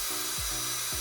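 Short whirring bursts of a power drill pre-drilling wood, two quick pulses with pitch dropping as it bites, close and fairly quiet over background hiss.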